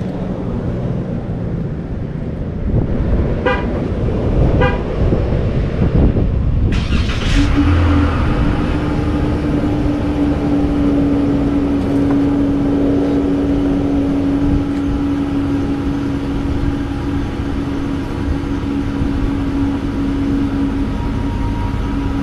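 A 2019 Dodge Charger V6 rental car cold-starts: a brief starter crank, then the engine catches and settles into a loud, steady idle that hums on for the remaining seconds.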